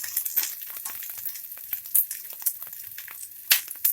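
Chopped onion frying with cinnamon, cloves and pepper in hot oil, giving a close, steady sizzle broken by sharp crackles and stirring scrapes, with no talking.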